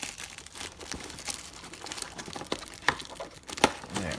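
Packing tape peeled off the box of a brand-new 1999 Casio Cassiopeia PDA running Windows CE, giving close, irregular crinkling and ripping bursts with sharper tears near the end.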